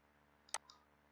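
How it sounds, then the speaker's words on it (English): A single crisp computer mouse click, close and isolated, against faint background hum. "Click here."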